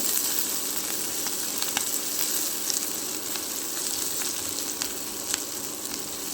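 Onion and garlic frying in a pan for an egg dish, a steady loud sizzle with faint crackles and no talk.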